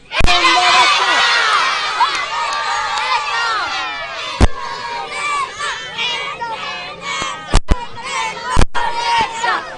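A large crowd of Indonesia supporters roars and chants together, loud and continuous, with sharp bangs and shouts cutting through the din.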